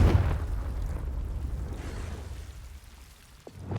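A Confringo spell explosion in Hogwarts Legacy, a single muffled burst at the start that decays into a crackling, rain-like rumble before a small pop near the end.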